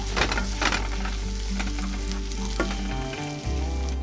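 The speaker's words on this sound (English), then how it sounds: "This is garlic toasted in some butter, and then we're gonna add some onions." Onions frying with toasted garlic in butter give a loud, close, continuous sizzle with bursts of stirring, set over a steady low tonal hum.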